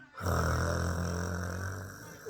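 A person snoring while asleep gives one long, loud, rasping snore close up, a sustained throaty rumble that fades slightly toward the end.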